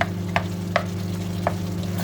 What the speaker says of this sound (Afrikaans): En dan kook jy dit net hier tot dit lekker sag is.